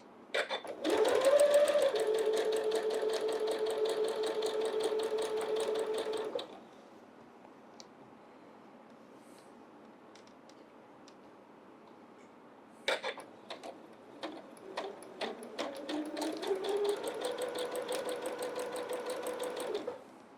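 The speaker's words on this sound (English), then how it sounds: "I'm just going to sew them up." A sewing machine stitches quilt block pieces for a Christmas quilt block in two loud, rapid bursts, separated by a pause of near silence.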